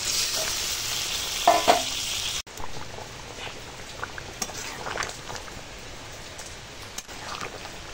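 A meat curry sizzles and bubbles steadily in a pan after water is added. A few stirring scrapes sound close by, with no talk.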